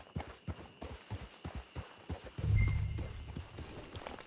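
Horse hooves clip-clopping in Red Dead Redemption 2, a steady rhythmic trot of close, distinct hoofbeats followed by a louder low rumble of movement partway through.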